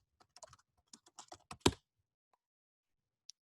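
Computer keyboard typing a search, a quick run of close, crisp key clicks for about two seconds, with one isolated tap afterward, quiet room, no talking.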